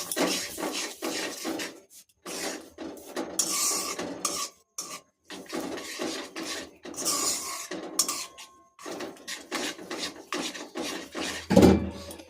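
Sugar goes into a pot of simmering grated carrot halwa, heard as rhythmic scraping and stirring of a spoon against the pan, with scattered metallic clinks and a sharp knock near the end.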